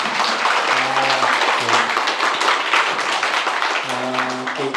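Audience applause at a community book talk concert, a sustained crackle of many hands clapping, with a voice speaking over it near the start and end.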